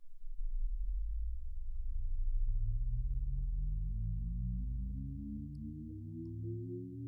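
Layered electronic tones from a photocell light-controlled circuit hum and glide slowly upward together over a deep, steady drone, forming a loud, continuous chorus with no voices.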